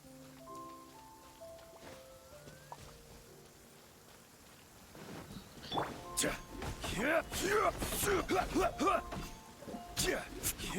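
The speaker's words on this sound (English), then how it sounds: "Get out of the rain!" Rain in the video game Genshin Impact patters steadily, starting quiet under tonal game sounds and growing denser and louder, with voices layered over it in the second half.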